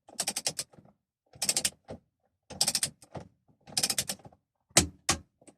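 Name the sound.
torque wrench tightening a VW steering wheel bolt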